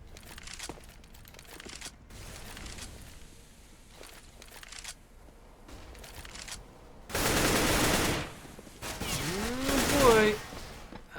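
Bursts of automatic gunfire in a Counter-Strike match on the Cache map, quiet scattered shots early, then two loud dense volleys near the end, with a commentator talking over the action.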